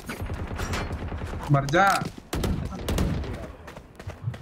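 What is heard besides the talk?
gunfire in a video game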